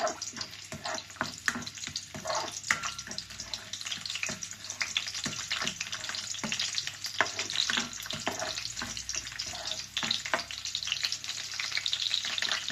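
Garlic sautéing in a hot pan for a beef stew, a steady close sizzle with frequent crackles and stirring scrapes running throughout, no voices.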